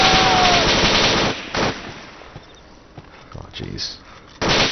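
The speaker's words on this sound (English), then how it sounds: "Somebody's shooting at us. I don't know where it's coming from." In the ARMA 2 video game, a dense burst of gunfire opens the scene and fades into sparse sharp shots. A man briefly exclaims, and another loud volley breaks out at the end.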